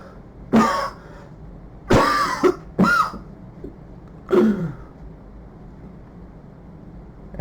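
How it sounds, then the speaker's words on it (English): A man coughs and clears his throat in several rough bursts right after vomiting, with short pauses between them and a faint low hum underneath. "After he threw up, he coughed."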